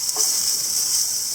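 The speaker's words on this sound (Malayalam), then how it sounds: "സവാള ചെറുതായിട്ടൊന്ന് വഴറ്റിയെടുക്കാം." Onions sautéing in a frying pan give a steady, close hiss and sizzle, one continuous layer of frying noise with no talking.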